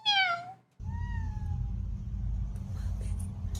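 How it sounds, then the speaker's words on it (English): A cat gives two meows, a bright rising-and-falling cry followed by a softer second meow, over a low rumbling background. "the meow is so cute though"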